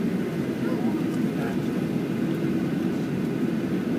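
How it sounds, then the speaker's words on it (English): Two airplanes taking off together at a San Francisco airport, heard as a steady, loud, broad engine roar that holds level throughout without a break. "Two planes took off at once."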